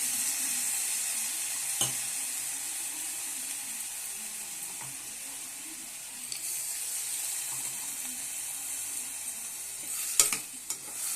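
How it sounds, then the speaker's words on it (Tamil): Ginger garlic paste sizzles in a pan in a steady, close hiss, with a few sharp stirring clinks and scrapes scattered through and no talking. "இதில் இஞ்சி, பூண்டு, விழுது போட்டுறேன்."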